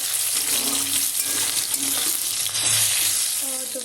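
Tomatoes and spices frying with sugar in a pan for Bengali-style chickpea ghugni, a steady close sizzle with occasional stirring scrapes and light clinks throughout.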